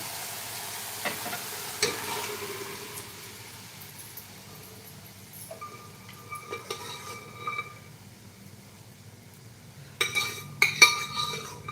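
Cooked black chickpeas go into a pan of frying garam masala: a soft, faint sizzle runs under scraping stirs, with a few sharp clinks of a spoon against the pot near the end.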